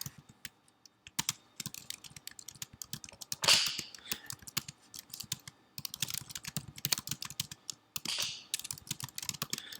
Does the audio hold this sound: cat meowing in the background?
no